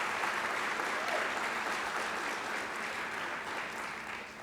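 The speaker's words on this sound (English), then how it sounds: "could we give them a round of applause before we go much further so I don't forget?" An audience at a workforce event gives sustained applause, a steady wash of many hands clapping, moderately loud and fading slightly at the end.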